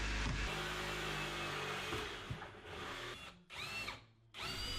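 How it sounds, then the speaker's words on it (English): A power drill drives screws through pocket holes into cabinet sides, with several whirring bursts that rise and stop, separated by short pauses, close and fairly quiet. "we shot some pocket holes through the cabinet sides"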